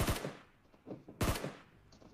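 Gunfire in PUBG Mobile: two sharp, fairly quiet bursts, each a quick cluster of cracking shots, the first at the start and the second about a second later, with faint echoes trailing in between.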